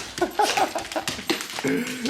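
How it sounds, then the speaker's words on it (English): A dog whimpers and whines in short, high-pitched bursts, close by, with a few soft yips in a steady rhythm. "You're such a good dog."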